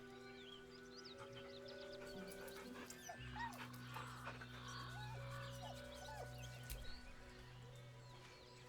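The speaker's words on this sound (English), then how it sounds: "The dog whimpers nervously, as if to urge you on." A dog in Baldur's Gate 3 whimpers and whines softly in several short, rising yelps, faint and intermittent over a low ambient hum and light background sounds, with no voices.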